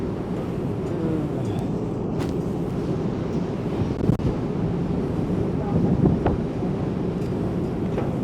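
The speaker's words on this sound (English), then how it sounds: "Every now and then we get a real gust of wind." Strong wind buffets a ferry deck, roaring steadily against the microphone with brief gusting surges, a low background of engine and water noise beneath it.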